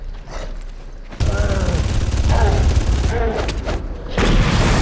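A grenade blast and gunfire in the Far Cry video game, a loud sustained rumbling roar of explosion and shots filling the scene, with someone talking over it.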